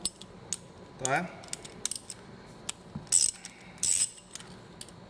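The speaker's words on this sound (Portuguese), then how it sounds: "Tirando aqui o quarto parafuso" Screws being removed from a worm gear reducer during disassembly, with sharp metallic clinks, a short ratcheting rattle and bright scraping clatters of parts set down, close and intermittent, with a brief spoken word.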